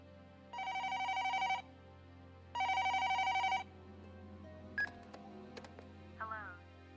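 A telephone rings in the anime film Patlabor WXIII, two steady ring bursts over a low background hum, then scattered faint clicks and a short warbling tone.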